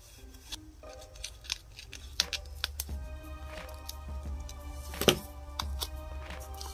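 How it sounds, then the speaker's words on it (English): Scissors snip apart stickers for a Dollar Tree Halloween spell book craft, giving a series of close, quiet, irregular cuts with one sharper snip near the end over a low background hum. "these are stickers, so they're gonna be hard to tear, so I'm just going to chop at them here"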